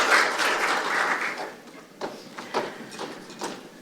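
An audience at a National Assembly maritime forum applauds after a speech, a dense burst of clapping that thins after about a second and a half into scattered, uneven claps.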